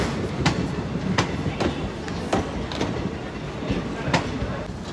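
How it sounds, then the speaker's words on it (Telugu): A passenger train rolling slowly out of a station on the Danapur to Secunderabad route, with a rumbling interior drone and a steady clickety-clack of wheels over rail joints about every second. "సో మన ట్రైన్ అయితే మెల్లగా మూవ్ ఆన్ అవుతుంది."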